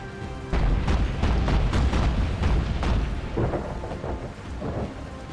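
Thunder rolls and booms over heavy rain at night in Battlestations Pacific, loud and close, with a sustained rumble that swells and fades and no voices on top.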